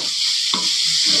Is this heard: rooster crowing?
no